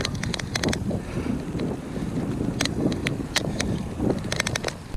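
Wind buffets the microphone during a bike ride in Cornwall on a dreary day, a constant low rumbling roar with gusty swells and a few sharp clicks, close and loud, with no talking.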